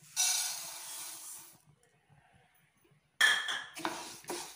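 A cup of moong dal poured into a pan on the stove for dry roasting, a brief hissing patter of grains followed by quiet, then light metallic clinks and scrapes close by.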